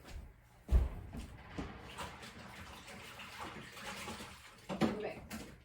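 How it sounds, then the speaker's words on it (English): Hands are washed under a running kitchen tap, a soft steady stream of water with light splashing and a couple of clunks, fairly quiet and close. "All right, I'll wash my hands real quick."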